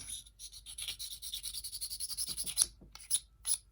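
A corner of a Jadeite Viking sharpening-stone necklace grinds to free up grit, producing quick, rhythmic rasping strokes close by, ending with three separate, louder scrapes.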